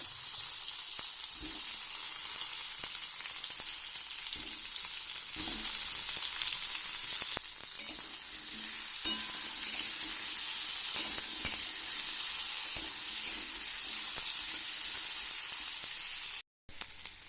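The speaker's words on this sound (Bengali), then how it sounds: "তাহলে চলুন কুঁদরিগুলো একটু ভালোভাবে ভেজে নেওয়া যাক" Kundru (ivy gourd) frying in mustard oil with turmeric, giving a steady close-up sizzle with occasional stirring scrapes throughout and no voices.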